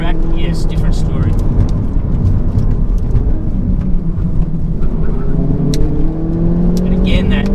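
BMW M2 CS sports car engine pulling hard on a twisty mountain touge road, a loud continuous roar with rising revs throughout, close and unbroken, with a voice talking over it.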